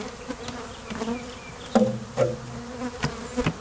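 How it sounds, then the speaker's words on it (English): Many honey bees buzz around their hive in a constant droning swarm, with occasional sharp knocks and taps cutting through the hum. "once the sun comes up, they start flying. There are a lot more bees."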